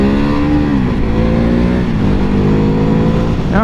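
A Ducati Hypermotard 950 motorcycle engine revs hard and loud in first gear as the bike lifts into a wheelie, its pitch sweeping up and dipping through a few throttle blips, steady and close without a break.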